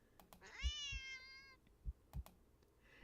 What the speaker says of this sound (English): The cat meows at you again